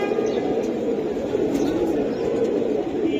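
A silver male Giribaz pigeon coos in low, steady murmurs, with continuous soft background noise and no clear pauses throughout.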